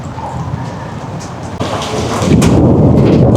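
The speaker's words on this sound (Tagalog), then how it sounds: "may kulog-kulog na ha" Thunder rolls in deep, loud rumbles near Divisoria in Manila, building into a heavier, sustained roar over steady rain toward the end.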